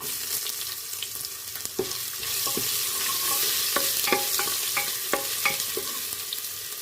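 Ginger fries in hot oil with asafoetida, curry leaves and bay leaf, giving a steady close sizzle broken by sharp clinks and scrapes of a spoon stirring the pan.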